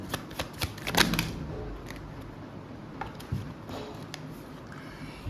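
Tarot cards being shuffled by hand, a quick burst of close, papery riffling and flicking in the first second or so, followed by softer occasional card taps and handling noises.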